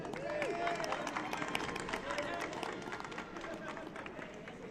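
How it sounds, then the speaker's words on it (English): Crowd applause at a youth soccer final, a broad steady patter of clapping from a stadium audience with a voice talking over it at times. "One more round of applause for Daniel Carmona."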